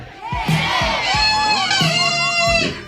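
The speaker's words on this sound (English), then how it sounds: "Let me hear you say yay" A live audience at a stage show shouts "yay" in response, a loud chorus of many voices in repeated waves of cheering and yelling, some of them high-pitched.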